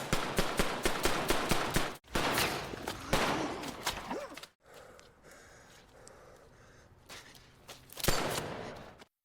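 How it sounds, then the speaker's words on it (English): Gunfire erupts in a film action scene as masked attackers open fire: a rapid burst of loud repeated shots for about two seconds, then more shots and impacts, a quieter tense stretch, and another sharp loud blast near the end. "two masked men suddenly appear with weapons and open fire in their direction"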